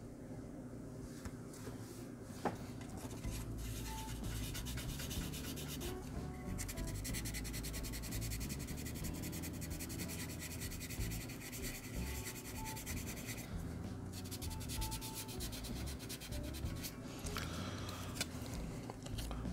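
Wet sanding a Hasegawa 1/24 Mazda Cosmo Sport L10B plastic model body near a trunk panel line with 600-grit wet sandpaper, giving a steady close rubbing scrape that continues without pause and with no talk.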